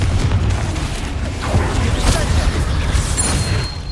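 A Confringo fire spell bursts in the Hogwarts Legacy video game, a loud, dense rumbling blast with a steady roar of game action and effects throughout.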